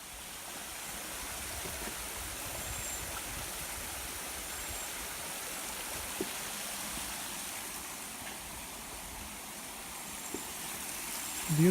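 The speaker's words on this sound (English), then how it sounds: "looks like we made it down to Seneca Creek" Seneca Creek, a mountain stream in West Virginia backcountry, rushes steadily, a continuous broadband wash of flowing water with no voices, a faint knock or two near the end.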